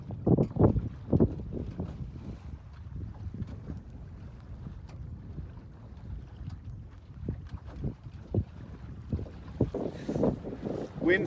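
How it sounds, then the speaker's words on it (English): Steady wind buffeting across the microphone on open water, with gusty rumbles and occasional water slaps against a hull, no voices. "Wind finally picked up a little."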